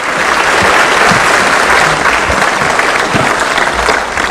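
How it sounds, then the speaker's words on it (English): A large audience gives loud, dense applause welcoming the President of Kenya at a public launch event, a continuous roar of clapping that holds steady throughout with faint crowd murmur beneath. "President William Samoei Ruto, with a round of applause as he comes."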